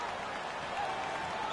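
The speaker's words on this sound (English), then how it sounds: "the crowd getting into it" A simulated stadium crowd cheers in a PS4 football video game, a broad, continuous roar of applause heard at moderate level and holding steady, with a slight swell midway and no distinct speech.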